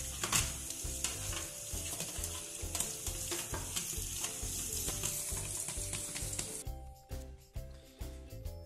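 An air conditioner filter is rinsed under running tap water, a steady rushing spray that cuts off near the end, leaving quieter thumps behind.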